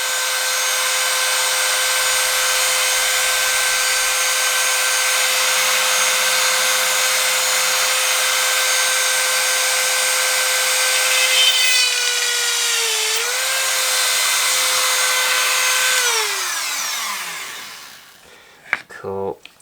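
A Dremel rotary tool grinds on a copper penny with a high, steady whine and gritty rasp, then the motor pitch falls away as it spins down, ending in a few small clicks and handling knocks.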